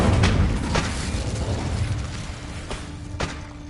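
An Incendio fire spell cast in Hogwarts Legacy, heard as a cluster of booming, bursting blasts, strong at the start and returning as sharp whooshing pops near the end.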